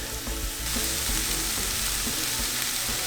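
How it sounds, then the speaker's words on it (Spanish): Finely chopped vegetables fry in oil in a pan for a Colombian shrimp cazuela, making an even, dense sizzle close by with occasional soft stirring knocks and no speech. "Vamos a agregar un poco de aceite a una sartén junto con los vegetales que hemos finamente picado."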